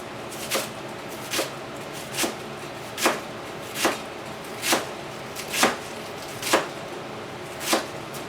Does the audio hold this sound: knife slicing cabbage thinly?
yes